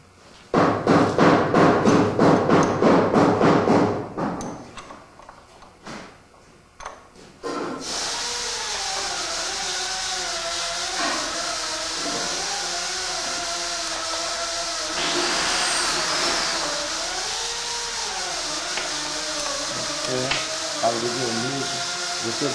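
Four bolts being loosened on a Meyer cracker with a hand tool: a steady run of rhythmic metallic rasping and ratcheting for several seconds, a few separate knocks, then continuous machinery noise.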